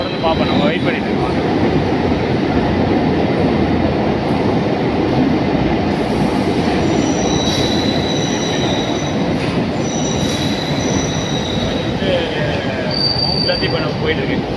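Chennai suburban train on the St. Thomas Mount to Velachery line passing close by, loud continuous wheel rumble and rattling carriages with intermittent high metallic wheel squeals throughout.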